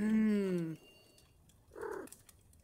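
A cat meowing in a Christmas Carol adventure video game, one long drawn-out meow followed by a shorter, quieter mew, with silence between them and no talking.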